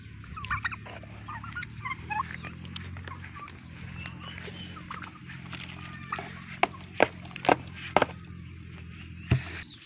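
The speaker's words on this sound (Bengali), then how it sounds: "তো ওই যে টার্কিগুলো সবগুলো আইসা পড়ছে এখানে" A flock of turkeys gobbles and calls close by, overlapping honking cries, with several sharp taps and clicks toward the end.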